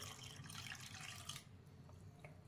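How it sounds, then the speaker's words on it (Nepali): Water runs into washed lentils for a Palpali batuk batter, a steady splashing pour for about a second and a half that then thins to a quieter trickle with a few drips. "अब फेरि म यसमा पानी राख्छु।"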